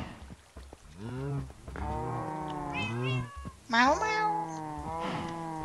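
Cat meows from the Minecraft video game come one after another, long, wavering and fairly loud, rising and falling in pitch in a continuous, whining chain.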